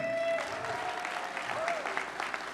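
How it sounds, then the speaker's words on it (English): Audience applause at Rhode Island Comic Con for two Flash guests, a dense steady clapping from a crowded hall with a few whoops and voices mixed in. "How about a big round of applause for Louis and Sophia?"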